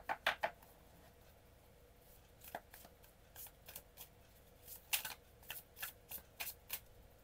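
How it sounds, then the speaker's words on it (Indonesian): Oracle cards being shuffled by hand, a series of crisp riffling bursts in uneven rhythm, close and fairly quiet with no talking. "Mari kita shuffle kartunya untuk pile nomor 3."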